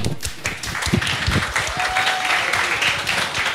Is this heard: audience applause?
yes